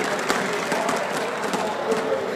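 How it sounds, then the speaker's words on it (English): Crowd at the EMS One Katowice 2014 CS:GO semifinal between Virtus.pro and LGB eSports roars in a packed esports arena, a steady dense wash of cheering with scattered sharper shouts throughout. "we can hear you guys cheering every kill"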